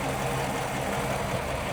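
A 1956 Ford Fairlane Sunliner with a 292 two-barrel engine idles smoothly and steadily close by, a continuous even rumble with no voices over it.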